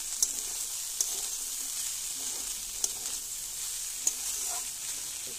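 Ghugni with turmeric sizzles in a frying pan while a spoon stirs it, a steady soft frying hiss broken by light periodic scrapes and taps against the pan, with no talking.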